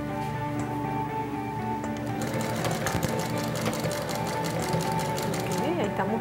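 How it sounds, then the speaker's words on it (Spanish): A sewing machine stitches fabric for handmade slippers, a steady close mechanical whirr that speeds into a rapid rhythmic ticking, with people talking over it. "Entonces aquí volvemos otra vez a la parte de coser."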